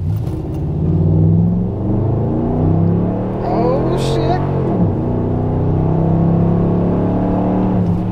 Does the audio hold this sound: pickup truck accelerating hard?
yes